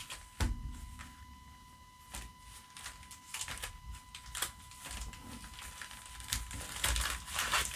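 Korean Pokémon Ancient Roar trading cards, pulled from opened booster packs, are shuffled by hand. Soft, quiet rustling and papery snapping come in irregular bursts close by, with no talking.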